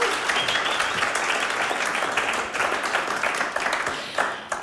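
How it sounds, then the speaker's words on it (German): An audience applauds steadily for a guest who has just joined the speaker on stage at a talk about faith and prayer; the clapping is dense and sustained, with no voices above it. "geb dir doch nochmals einen großen Applaus"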